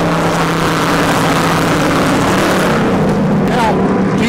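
Race cars speeding around the Dover track, a loud continuous engine roar with steady droning tones and a rising pass near the end, under background talk.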